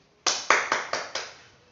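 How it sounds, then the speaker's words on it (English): In a kindergarten English class, five sharp, evenly spaced hand claps ring out close and loud, each decaying quickly, after a short silence. "Clapping."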